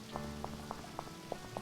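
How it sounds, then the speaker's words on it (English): Rain in the video game To Pixelia, a light patter of drops landing at a fairly regular pace, quiet under background game music. "It's raining."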